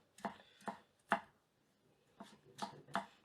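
Sharp bunka kitchen knife push-cutting through a carrot on a cutting board: six crisp chops in two groups of three, with a pause between the groups.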